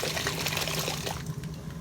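Water spitting and pouring from an overfilled steam boiler, a steady wet splashing gush that runs continuously and fairly close, with no voices over it.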